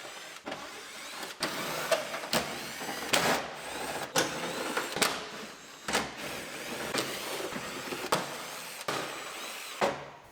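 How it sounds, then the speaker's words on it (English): Plastic fasteners being pried and popped out of a Toyota RAV4 quarter panel, a series of sharp clicks and snaps spaced about a second apart, with some rustling between them. "So now we can pull the fasteners off."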